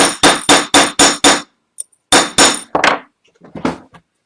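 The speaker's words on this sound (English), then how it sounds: "But I'm going to go ahead and hammer it." A metal pendant is struck with a hammer on a bench block: five quick, evenly spaced loud metallic strikes, a pause, then a further cluster of sharper blows and a few softer taps, close and ringing, with no voices.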